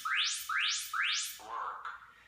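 Tabata interval timer app signalling the start of work: three quick rising electronic sweeps in a row, followed by a lower buzzy tone, clear and alone.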